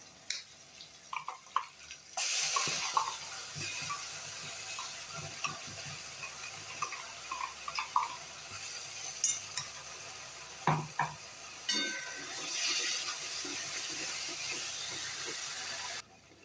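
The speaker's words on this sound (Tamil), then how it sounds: "இப்போ நம்ம இந்த அரைச்ச மசாலா போட்டு வதக்க போகிறோம்" Ground masala paste sautéing with softened onion and tomato in a pan for drumstick gravy, a steady loud sizzle broken by scraping stirs and occasional clinks of the spoon, no voices.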